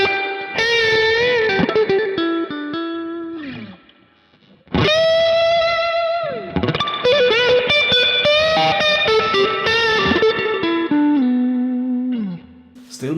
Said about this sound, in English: Kemper writes in the manual that it adds a little bit of grit to, or grittiness to, the reverb